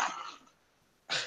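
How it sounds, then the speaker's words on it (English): A dog gives two short, sharp barks, one at the start and one at the end, with a near-silent pause between them. "crazy dog."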